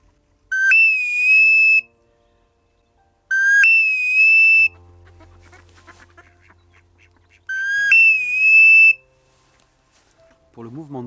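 A person whistles an imitation of shorebird (wader) calls, chaining two sounds into three bright whistled phrases that rise sharply and hold steady. Softer mouth and breathy noises fill the gaps between phrases.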